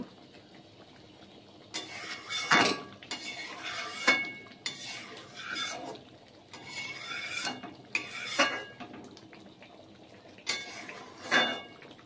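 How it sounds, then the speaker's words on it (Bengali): Eggs and potatoes being stirred in a cooking pot for an egg masala curry: several separate bursts of metal spoon scraping and clinking against the pot, with quiet gaps in between. "ডিম আলুগুলো একটু নাড়াচাড়া করব।"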